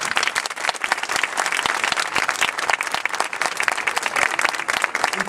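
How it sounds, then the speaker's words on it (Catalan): Sustained, dense applause from a large audience at a Compromís campaign rally in Santa Pola, steady and loud throughout with a crowd murmur underneath. "Per favor, un aplaudiment molt gran."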